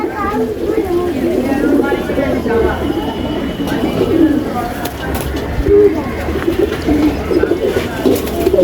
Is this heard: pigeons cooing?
yes